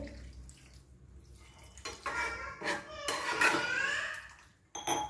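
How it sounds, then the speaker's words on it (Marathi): Clinking of a metal pot, then a short burst of water splashing and pouring into chicken curry gravy, close by. "आता आपण थोडंसं ह्याच्यात ग्रेव्हीमध्ये पाणी ओतून घ्यायचं आहे"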